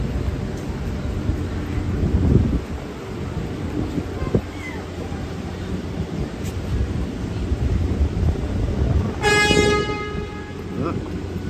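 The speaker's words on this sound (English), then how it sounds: "Honking." On a windy New York City street, a single car horn honks steadily for about a second over constant traffic roar and wind buffeting, with a person talking nearby.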